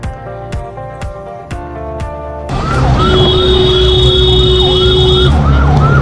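A few bright tonal chimes give way to a loud wailing ambulance siren rising and falling, close by, with a low vehicle rumble beneath.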